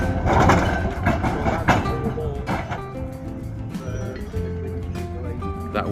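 A Blackpool heritage tram runs on its tracks with a rumbling, clattering roll and some tonal wheel squeal, fairly close and steady, while someone talks over it.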